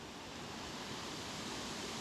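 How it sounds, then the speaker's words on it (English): A waterfall pours over a drop on a brook trout creek, a steady broadband roar of rushing water filling the whole clip. "we're coming up to the waterfall"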